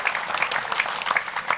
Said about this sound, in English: So I want you to give them a round of applause for being out here